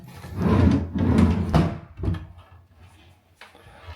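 Bathroom vanity drawers in a wash area are opened and closed, giving several thumping slides and knocks close by, with a quieter bump near the end and no talk.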